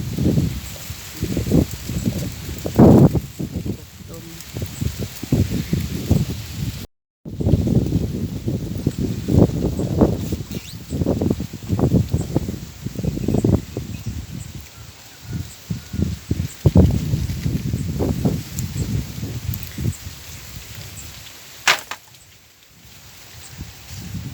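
Wind gusts rustle dry leaves in a steady outdoor wash that swells and fades, close to the microphone with no voices.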